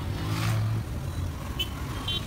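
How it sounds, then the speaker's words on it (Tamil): Heavy road traffic in Chennai, a continuous low rumble of car and truck engines close by, with a brief short horn-like tone near the end. "நான் ஓவர் டிராஃபிக் அதிகமாக இருக்கேங்க,"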